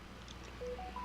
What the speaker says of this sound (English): I'm sorry if you can hear my phone going off then.